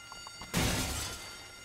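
Glass shatters loudly in the video game Sleeping Dogs, a single sudden crash with a scattering tail of debris that fades over about a second, after a few faint soft taps.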